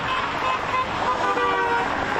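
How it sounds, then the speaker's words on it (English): Car horns honk repeatedly and overlap amid steady road traffic at a labor union strike outside an auto plant, a loud, continuous blare with no pauses. "Day one of the UAW's targeted strike against auto plants full of honking horns"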